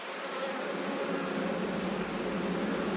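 Honey bees swarm in a dense, steady buzz at an opened hive in spring, the drone loud and close and unbroken, with no voices over it.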